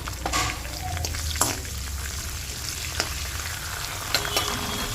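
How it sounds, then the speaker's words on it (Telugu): Curry leaves fry in hot oil in a pan for a festival chickpea prasadam. The sizzle is continuous and close, broken by a few sharp pops and stirring scrapes. "కొంచెం ఫ్రై చేసుకోవాలి. దీంట్లోకి మనము కొద్దిగా కరివేపాకు,"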